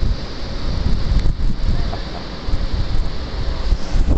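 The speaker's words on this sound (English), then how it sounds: "It's a little breezy." Steady wind buffets the microphone at a beach, a loud, constant rumbling roar with a faint surf-like wash behind it and no clear breaks.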